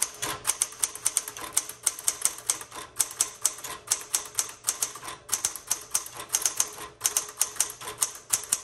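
A 1960s Galaxie II typewriter, repainted cherry red, types in a steady, brisk run of crisp key strikes with brief pauses, loud and close, with no voices.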